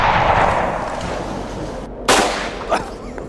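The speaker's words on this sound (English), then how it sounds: "The sound of gunshots echoes through the ancient forest," A sharp gunshot rings out in an ancient forest and rolls away in a long echo, followed by a fainter second report, set against a broad outdoor rumble.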